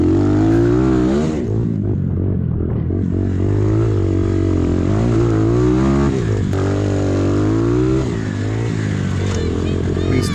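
Yamaha pit bike in a cross-country race, engine loud and close, revving and shifting pitch continuously with surging acceleration, under a voice talking.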